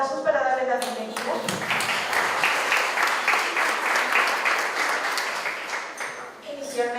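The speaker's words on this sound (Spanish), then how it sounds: "Les damos fuertes aplausos para darles la bienvenida." Sustained applause from a room full of people at a legal conference in Lima Norte, steady dense clapping lasting several seconds, with a Spanish-speaking voice heard briefly at the start and end.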